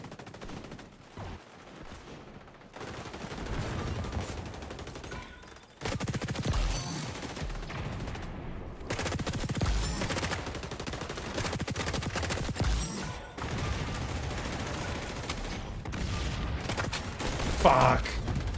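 Rapid gunfire from the shooter game XDefiant keeps up almost without pause, with dense automatic bursts and booming shots in a loud continuous barrage, and a player's voice comes in now and then underneath.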